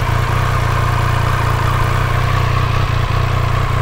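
A 2023 Triumph Speed Triple 1200 RS motorcycle engine idles steadily with a low, throbbing exhaust tone, close and constant, no voices.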